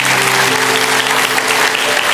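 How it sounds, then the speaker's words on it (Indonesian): A church congregation applauds loudly and steadily, dense clapping filling the room without pause and with hardly any voices. "Kasih tepuk tangan untuk Tuhan."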